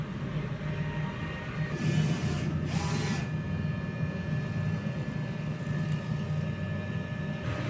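A DTF printer runs a nozzle test, producing a steady mechanical hum with a brief whooshing pass of the print head near the start, close and fairly quiet.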